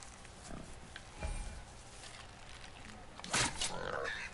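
Low grunts and snorts from a boar in the video game God of War come in short bursts, one louder squealing grunt near the end, over faint background noise.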